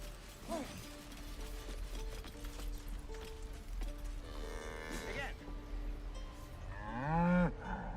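An ox in the video game Baldur's Gate 3 lets out several low, drawn-out moos, the last one loudest and nearest, over quiet background ambience and soft mechanical clicks.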